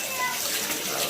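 Water running from a home shower as it is turned on for a child, a steady, bright hiss of spray that holds level throughout, with faint voices in the background.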